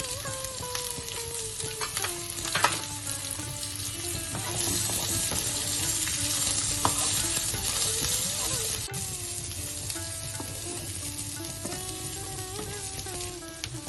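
Onion and garlic frying in a pan for a Mangalore-style chicken green masala, a steady close sizzle running throughout, with occasional clinks and stirring.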